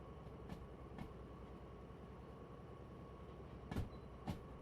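A train rumbles steadily in a train-driving video game, a constant low rolling drone with a few sharp clacks from the wheels over rail joints, and no talking.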